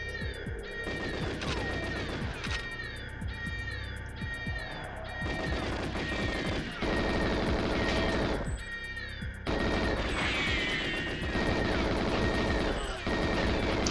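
Rapid video game gunfire from GoldenEye 007, the 1997 shooter, crackling in dense bursts and volleys throughout with loud impacts, while other game sounds and a voice occasionally come through beneath it.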